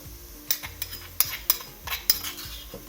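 Garlic, ginger and chili mixture frying in a pan while a utensil stirs it, with repeated close metallic scrapes and clinks over a faint sizzle.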